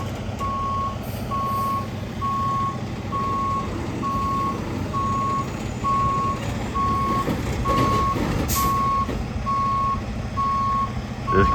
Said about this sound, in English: About to start moving the trailer out the way